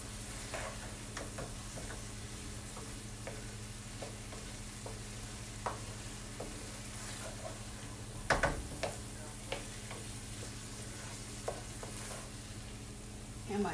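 Vegetables and mushrooms sauté in garlic butter with a steady sizzle, punctuated by scattered scrapes and clicks of stirring, close and moderately loud throughout.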